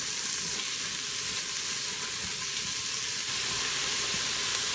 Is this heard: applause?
no